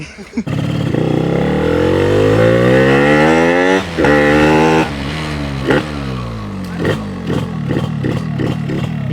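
A modified Yamaha RX 135 two-stroke motorcycle revs hard and close, its engine pitch sweeping up and down across several throttle blips before settling into sharp, stuttering bursts.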